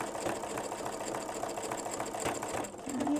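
A sewing machine stitches freestanding lace for an Easter basket, running a steady, even mechanical whir with a rapid needle rhythm throughout, close and moderately loud, with no talking.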